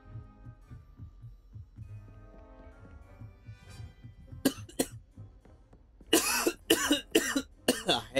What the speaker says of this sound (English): I hate how fucking random my cough is